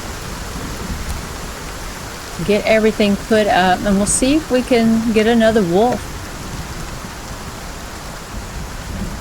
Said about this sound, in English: It's a long storm.